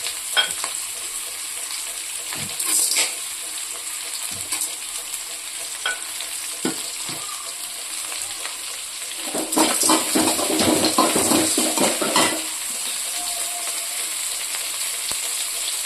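Onions sizzle and crackle steadily in a hot pan, with occasional stirring scrapes and a louder burst of frying partway through.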